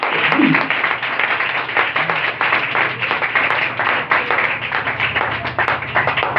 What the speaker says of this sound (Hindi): और एक बार अपने लिए ही जोरदार तालियां बजा दीजिए।